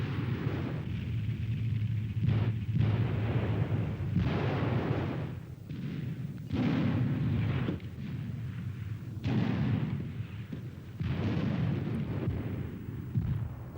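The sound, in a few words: Panzerschreck anti-tank weapons firing at T-34 tanks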